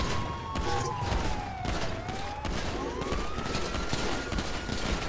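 Rapid gunfire in the video game GTA V during a role-play police chase, loud and continuous. Wailing police sirens rise and fall underneath.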